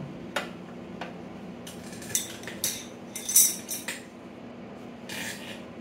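Metal crescent wrenches clink and scrape while loosening an oil drain plug, a scatter of sharp light clanks and ticks clustered in the middle, fairly close and with no talk.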